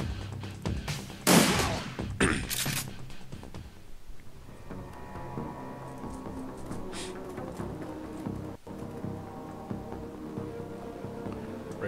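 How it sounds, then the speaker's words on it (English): Shotgun fire in the Shadowrun Returns role-playing game, two loud sharp blasts close together near the start, followed by quieter in-game ambience and music. "That shotgun has some range on it, man."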